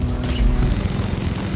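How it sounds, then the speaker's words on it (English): A C4 charge detonates in Deep Rock, making a loud, heavy boom that rolls on as a dense, sustained rumble for over a second. "I may have detonated some C4."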